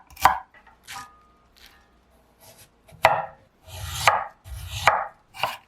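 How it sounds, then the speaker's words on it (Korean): A knife chops celery and other vegetables on a cutting board, giving sharp, close thuds in uneven bursts, a few single strikes and then quick runs of cuts with pauses between. "샐러리도 작은 크기로 잘라 웍에 넣을게요."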